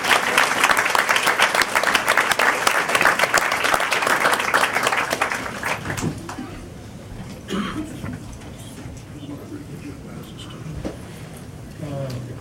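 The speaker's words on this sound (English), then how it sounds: "Let's give another round of applause." Audience at a school district board meeting applauds loudly for about six seconds before the clapping fades, and murmured talk and room noise carry on afterward.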